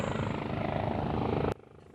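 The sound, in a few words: helicopter delivering coronavirus vaccine to Breton island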